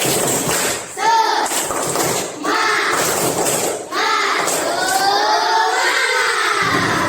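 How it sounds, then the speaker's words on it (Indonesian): A classroom of children performs the tepuk semangat cheer, chanting together in unison with bursts of rhythmic group clapping, loud and close, in a school setting. "Coba tepuk semangat dulu"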